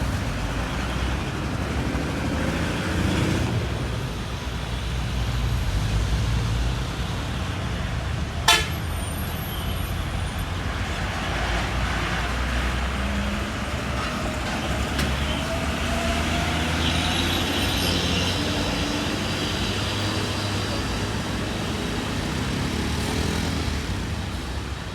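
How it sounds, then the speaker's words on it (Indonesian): Heavily loaded trucks on a road, including Hino and Mitsubishi expedition lorries, pass as a continuous low engine and tyre roar with a brief sharp horn toot midway and faint horn tones later. "Wow, truk ini muatannya besar sekali,"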